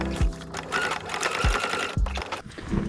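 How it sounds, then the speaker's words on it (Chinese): A sewing machine stitches elastic into a waistband in quick, even bursts of needle clatter, pausing briefly between runs with soft thumps of fabric handling; a quiet voice is heard faintly at times. "从正面缝比较好，"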